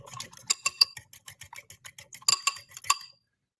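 Eggs whisked with pepper and garlic salt in a bowl: a rapid run of light clinking taps as a whisk or fork strikes the bowl, close and fairly quiet, with a few brief pauses and stronger strokes.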